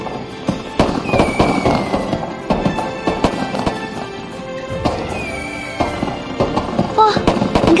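Fireworks burst and crackle in a rapid, irregular string of loud sharp pops and bangs, with a few whistling rises, running continuously close by.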